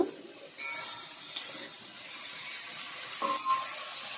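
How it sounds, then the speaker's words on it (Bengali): Potatoes and onions fry in a pan with a steady soft sizzle, broken by a few sharp clatters of stirring and a brief tap-like burst near the end. "আলু আর পিঁয়াজ তুলি ভাজা করে নিচ্ছি"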